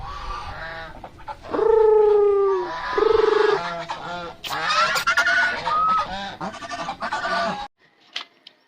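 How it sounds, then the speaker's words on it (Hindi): Loud, nasal duck quacks nearby, several calls in quick bursts, some overlapping, then a few fainter calls before stopping abruptly. "ये बतके है"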